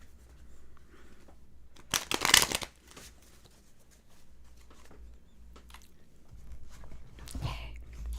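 Tarot cards are shuffled in a brief, loud riffling burst near the start, followed by soft handling rustles and light taps at close range.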